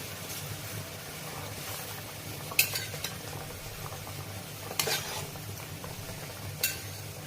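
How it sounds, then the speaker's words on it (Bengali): Fish pieces go one by one into a pot of boiling Bengali mustard curry: a low steady simmer and sizzle runs throughout, with a few sharp clinks of utensils against the pan. "ঝোলটা ফুটে গেছে এবার মাছগুলো এক এক করে দিয়ে দেবো"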